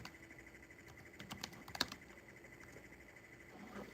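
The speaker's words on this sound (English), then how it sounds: "I was typing away" Someone types steadily on a computer keyboard, soft rapid key clicks with a few louder taps in the middle, faint against a steady room hum and with no talk.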